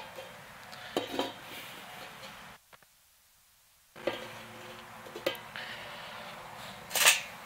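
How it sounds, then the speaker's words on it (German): Dutch oven pot set down onto hot coals outdoors, a few clanks and scraping metal knocks, a short silent gap, then more clinks and a sharp metallic clang near the end. "Topf auf die Kohlen."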